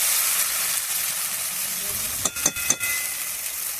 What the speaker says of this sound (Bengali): মশলা কষানো হয়ে যাচ্ছে, মশলা থেকে তেল ফেল দিয়েছি দেখো